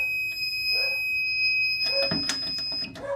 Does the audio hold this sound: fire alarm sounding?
yes